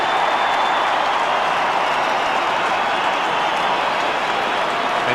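A large Australian football stadium crowd during a 1992 St Kilda versus West Coast match, a sustained loud roar of cheering and applause after a goal, steady and dense throughout.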